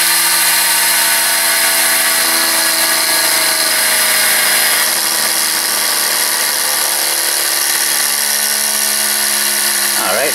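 A Tesla turbine driven by compressed air from two scuba tanks spins down, its loud whining drone with layered tonal hum slowly falling in pitch over several seconds, ending in a brief rattle.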